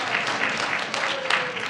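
A congregation applauds in a church sanctuary, a brief, continuous wash of clapping with a few cheers or voices mixed in.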